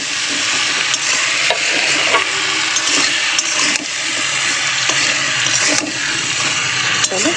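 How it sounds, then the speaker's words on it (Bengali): Vegetables with taro, beans, potato and shrimp sautéed with spices in a pan, a loud close sizzle with repeated spatula scrapes and clinks throughout, no voices heard. "ভালো করে মশলার সঙ্গে আনাজটা কষিয়ে নেবো।"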